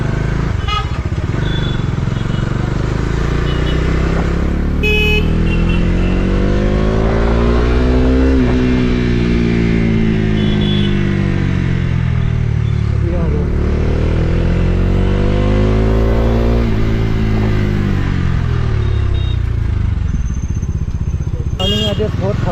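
A Bajaj Dominar 250 motorcycle is ridden hard at night, its engine loud and close, revving up and down in long rising and falling sweeps with steady road roar underneath.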